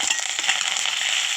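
Curry leaves sizzling in hot oil in a kadai, a bright continuous crackle and hiss with quick popping spatters, close and fairly loud, no voices.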